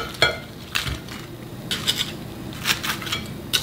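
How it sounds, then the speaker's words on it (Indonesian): Crispy fried pomfret fish being shifted from an oil-draining strainer into a bowl in a home kitchen, giving a few sharp, crunchy clatters and light scrapes separated by brief pauses, close up and without talk. "Dengar tu kan bunyi kerangupan ikan bawal goreng ni"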